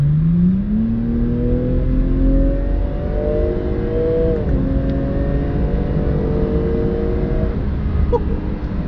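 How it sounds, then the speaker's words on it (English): A Hamann-tuned Jaguar F-Pace SUV with its active exhaust opened in sport mode revs up through several rising gear pulls, its exhaust note loud and throaty with steady rumbling underneath, no voices present. "It's an active exhaust system, and as soon as you put it on sport mode, it just opens up"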